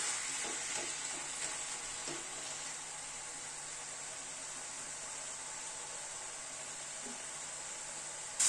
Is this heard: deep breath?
no